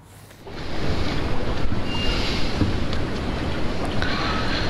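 Storm-driven waves and strong gusting wind batter the Bangladesh coast during a cyclone under a danger signal, a loud, continuous roar that swells in after a quieter first half-second.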